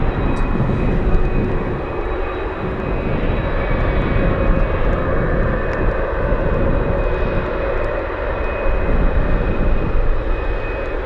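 A Boeing 737 BBJ jet taxiing at Anchorage airport on a gusty day, its engines giving a loud, steady roar with a constant whine that holds throughout, with no talk.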